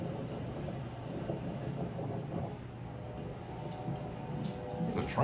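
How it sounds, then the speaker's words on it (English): A faint, low rumble of a train rolling by in the distance, steady and muffled, with no one speaking. "There's a train over there."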